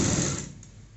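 A sewing machine stitches the waist seam of a little girl's frock: one short, loud whirring burst close by that quickly fades.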